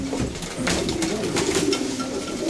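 Pigeons coo softly in a loft, a low steady murmuring with a few brief rustles, continuous through the short stretch with no voices.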